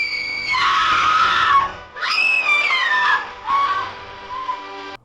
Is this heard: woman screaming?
yes